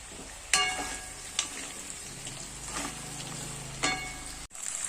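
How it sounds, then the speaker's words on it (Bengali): Cubed potato, sweet potato, green banana and papaya fry in hot oil with a steady, dense sizzle. Sharp scrapes of stirring break in now and then, and no one speaks. "এগুলো আমি এখানে দিয়ে আমি ভেজে নেব"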